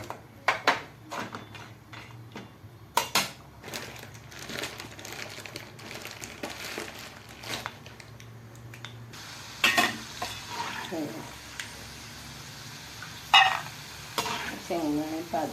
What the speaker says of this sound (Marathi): शेंगदाणे भाजून घ्यायचे.